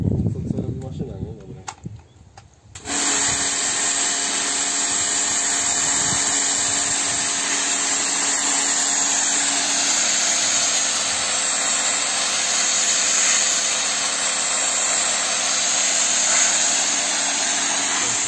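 A rented Kärcher pressure washer blasting terrace paving stones, a steady, loud, high-pitched motor whine and hissing spray that starts abruptly after a few quieter seconds and then runs continuously.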